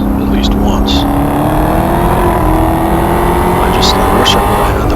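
A HellCat races a black Corvette on a track, the engine roaring loud and steady with rising revs throughout, close and continuous, while a voice talks over it.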